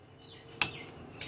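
A metal kadai (wok) set on a stove gives two brief, sharp clinks about half a second apart, fairly faint against a quiet background with no talking.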